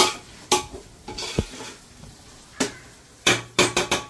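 Ingredients for chicken biryani sautéing in a pot, a soft sizzle broken by sharp metallic clanks and scrapes of a spoon stirring against the pot, in irregular bursts with a cluster near the end.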